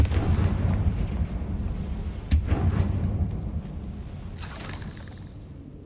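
Confringo spell explosions firing in the video game Hogwarts Legacy, a series of booming blasts with sharp cracks over a dense, continuous rumble of game sound.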